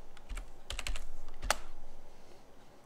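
Computer keyboard keys tapped in a short quiet burst on a Linux machine, a few clicks followed by one sharper, louder keystroke like an enter press, close and alone.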